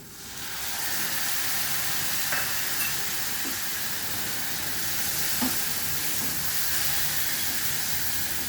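Cumin powder and turmeric soaked in water tipped into a hot frying pan while cooking prawns, giving a loud, steady sizzle with hissing steam and faint stirring scrapes throughout, no voices.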